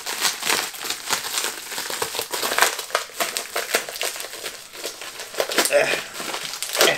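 Plastic packaging around a hot sauce bottle is crinkled and crushed during unwrapping, with close, irregular crackling bursts throughout and a voice talking intermittently.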